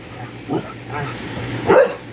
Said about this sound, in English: Look at him jumping all around and barking.